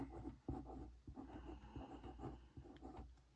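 A Micron .05 pen writing the number 6 on a recipe-book page, a faint, close scratchy scribble made of a few short, uneven strokes, with nobody talking.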